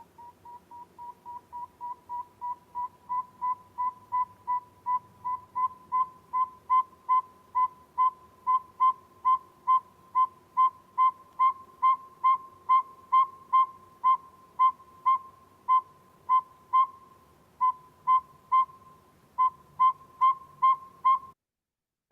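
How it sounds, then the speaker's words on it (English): A northern saw-whet owl repeats a steady, high, squeaky tooting note dozens of times in an even rhythm, like a saw working back and forth, clear and alone against a quiet background. "Northern saw-whet owl."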